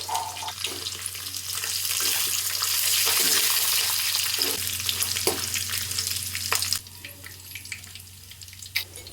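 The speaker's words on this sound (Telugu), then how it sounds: "తుంచి పెట్టుకున్న ఎండుమిరపకాయలు, కరివేపాకు, కొద్దిగా జీలకర్ర వేసుకొని వేయించుకుందాం" Dried red chillies, curry leaves and cumin crackle in hot oil with cashews for pulihora tempering: a loud, steady sizzle with brief clinks, easing to a quieter hiss near the end, with no talk.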